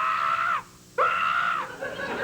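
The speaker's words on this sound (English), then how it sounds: "You should have heard her scream." A woman screams loudly twice in succession, a sustained high shrill cry, a brief gap, then a second long scream that trails off, with no talk.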